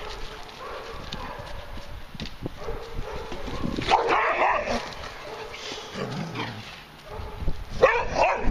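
Dogs barking in a playful outdoor setting, several sharp bursts at moderate distance mixed with clattering background noise, the loudest barks coming near the middle and end.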